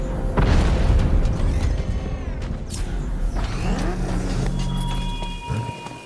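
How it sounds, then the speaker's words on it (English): Vehicle crash in Batman: Arkham Knight, opening with a heavy booming impact followed by grinding metal, creaks and scraping debris, then a low rumbling hum that fades near the end; no speech. "The Arkham Knight's vehicle swerved and crashed up ahead."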